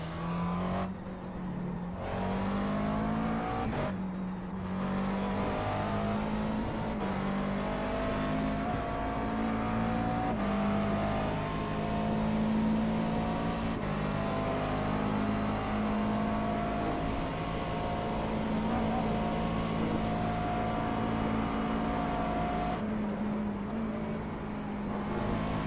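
A McLaren MP4 12C race car engine in iRacing drones steadily and loudly throughout, its pitch rising and falling through gear changes with brief lifts off the throttle.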